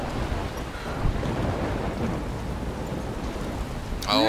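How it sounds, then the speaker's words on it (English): A thunderstorm in the Life is Strange video game: steady rain and low thunder rumble fill the scene throughout, with a brighter crackling burst near the end, no voices. "I'm trapped in a storm?"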